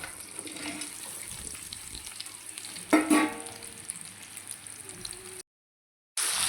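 Sliced bitter gourd and onion frying together in hot oil, a steady, close hiss and crackle with a louder burst of sizzle near the middle and a brief dropout to silence near the end.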